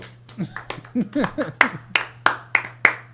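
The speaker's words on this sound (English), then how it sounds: "start with the slow clap" A short series of sharp hand claps, spaced out and getting quicker, with a low steady hum underneath and a few voiced sounds early on.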